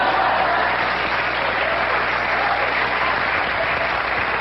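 Studio audience at a late-night talk show bursts into loud, dense applause that holds steady and continuous throughout, with no one speaking over it.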